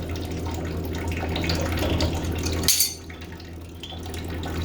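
Water hisses and splashes from a loosened water line fitting during a shut-off valve install, close and steady for nearly three seconds, then cuts off abruptly, leaving a quieter background.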